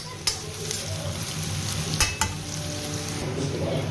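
Oil frying in a pan for an egg mash sizzles steadily throughout, with a few sharp utensil clicks and scrapes from stirring; no one speaks.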